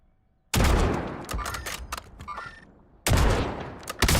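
Bursts of rapid gunfire in a Call of Duty match, a loud close volley lasting about two and a half seconds, a short gap, then a second burst, with no talk.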